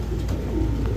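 Pigeons of fancy breeds such as Kaldom, Gorra, Military, Racer and Pankhi coo at a pigeon market, a brief low throaty coo close by over murmuring background.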